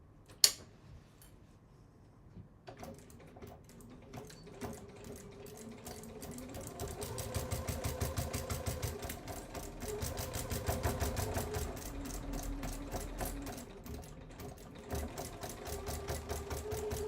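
A sewing machine stitches across a bag's binding in a continuous run, starting after a sharp click and quiet handling, then settling into a steady rapid mechanical patter that swells and eases with speed.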